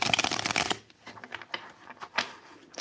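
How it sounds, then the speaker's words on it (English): Tarot cards are shuffled close up, a dense riffling burst at first, then scattered soft slides and taps as the deck is handled quietly. "let's shuffle these cards up"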